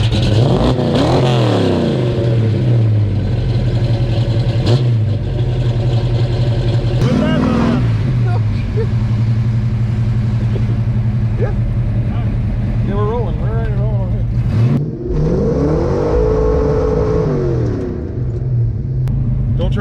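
The engine of a 1982 Fox Body Capri revs loudly during a ride, surging and falling in repeated bursts from inside the car, with a constant low rumble underneath and voices talking over it.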